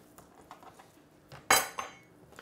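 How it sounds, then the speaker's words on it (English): Knife cutting a venison backstrap into chunks on a board, mostly quiet with soft ticks, then a sharp metallic knock and a second lighter clink near the end. "I'm gonna go ahead and just cut this thing into about 10-inch chunks"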